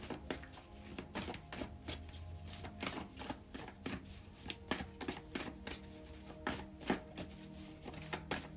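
Tarot cards shuffled continuously, a dense run of soft riffling flicks and slaps close by, steady and fairly quiet with no voices.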